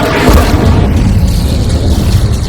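Spell blast from the Hogwarts Legacy video game: a loud, dense rumbling explosion that holds for the whole stretch with no voices over it.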